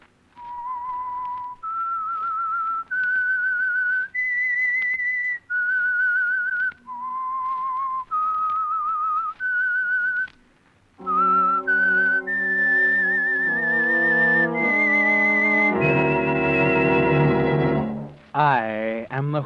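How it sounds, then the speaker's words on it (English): A whistled signature theme for the 1940s radio mystery program The Whistler, sponsored by Signal Oil, rises and falls as a sequence of clear sustained notes, then an orchestral chord swells underneath and the two end together. "That whistle is your signal for the Signal Oil Program,"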